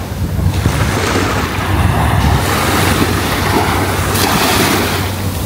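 Sea waves at Station 3 on a Boracay beach wash in with a continuous surf roar, heavy wind buffeting the microphone on top. The sound is loud and steady, with no voices.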